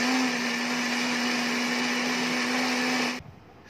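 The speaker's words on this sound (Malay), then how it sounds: "Jom kita blender." A blender whirs loud and steady as it purées fish flesh with fish broth for laksa, its motor whine constant for about three seconds before cutting off abruptly.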